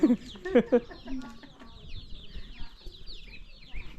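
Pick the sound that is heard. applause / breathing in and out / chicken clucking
chicken clucking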